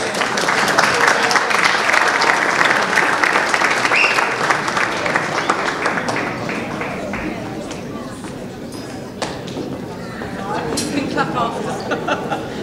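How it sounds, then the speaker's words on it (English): An audience at an awards and solidarity night in London claps loudly in a sustained burst of applause that slowly thins out, with crowd chatter underneath. "Big round of applause."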